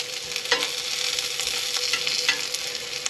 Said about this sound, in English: after a couple minutes of sauteing your pepper or your onions